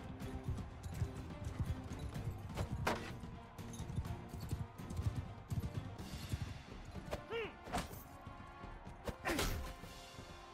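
Horse hooves in a Mount & Blade 2: Bannerlord tournament fight, clip-clopping at a moderate distance amid thumps, weapon clashes and occasional sharp impacts, with a voice talking at times.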